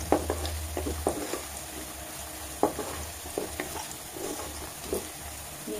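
Peanuts and small coconut pieces roasting in a pan for a potato masala fry, with a steady soft sizzle and scattered scraping and stirring clicks, close and moderately quiet, no talking.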